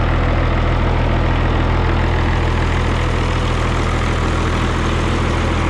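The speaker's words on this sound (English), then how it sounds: "I thought it might have a slightly different sound with that, with a higher compression in it, but sounds like the same old tractor to me." A White 2-155 tractor with a freshly rebuilt engine idles while warming up, a loud, steady low rumble with even rhythmic pulsing and no voices.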